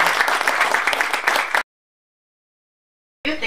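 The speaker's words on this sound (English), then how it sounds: "Let's give a round of applause to Ashley." An audience applauds for Ashley at an evening talk, a dense wash of many hands clapping for about a second and a half before cutting off abruptly; after a silent gap, a voice begins at the very end.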